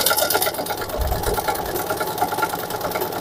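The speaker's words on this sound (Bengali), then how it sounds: "তো এখন আমি শুরু করতেছি সেলাই করাটা।" Singer SM024 embroidery sewing machine stitching close up, a steady fast mechanical whir with rapid needle clatter running continuously at moderate loudness.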